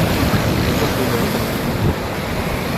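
Ocean surf pounds the shore during the landfall of Cyclone Biparjoy, a dense, continuous roar of breaking waves mixed with heavy wind buffeting the microphone, loud and steady throughout.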